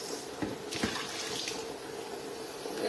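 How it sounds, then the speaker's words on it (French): Water running from a kitchen tap into a cooking pot, a steady close splashing flow with a few brief louder gushes, heard alone. "On doit mettre un peu d'eau."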